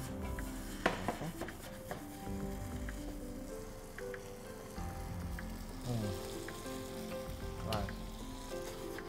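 Shrimp and okra stew sizzles steadily in a pot, with clinks and stirring sounds from time to time and a brief spoken word.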